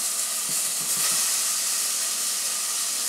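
Cream cheese melts in an overheated pan, producing a loud, continuous hiss and sizzle that fills the whole moment, close and steady.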